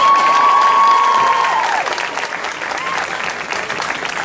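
A crowd applauds cosplayers at a convention cosplay parade with steady, loud clapping; a sustained tone rings over the first two seconds, then the clapping carries on alone.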